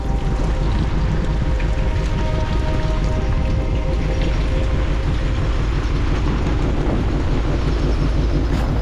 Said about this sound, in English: So right now, that rain's just coming straight up our bum.